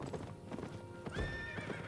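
Skeleton horse in the fantasy game Albion Online, with steady hoof clip-clops running throughout and a sharp neigh breaking in near the end, close and fairly loud.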